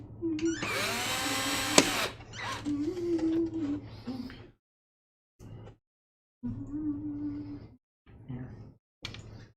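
A power drill whines in short bursts while driving bolts into an arcade cabinet, close and loud, with pauses and people talking between runs.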